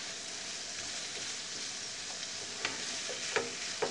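Potatoes simmering and frying in guajillo chile red sauce, a low even bubbling sizzle with a few soft spoon scrapes toward the end, quiet and close with no talking.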